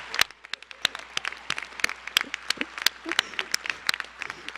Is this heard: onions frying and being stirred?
no